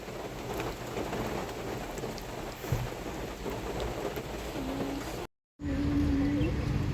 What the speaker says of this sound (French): Il y a de l'eau? C'est la pluie.